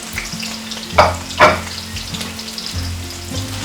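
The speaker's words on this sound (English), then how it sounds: "we'll give them a nice little mix in there in the oil, and we will come back to you now when these onions have browned" Chopped onions fry in oil for a lamb karahi, sizzling steadily with two sharp loud bursts of spattering early on. The frying is close up, with a low tonal hum underneath and nobody speaking.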